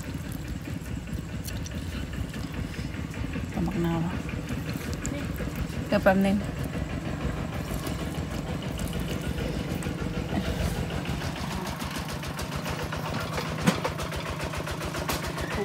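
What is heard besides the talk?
tractor engine running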